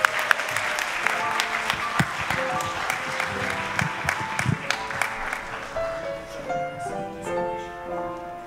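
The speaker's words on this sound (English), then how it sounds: "give yourselves a round of applause" A church congregation applauds at a Thanksgiving Sunday service, a burst of clapping that slowly thins out as organ or piano chords rise underneath and carry on alone.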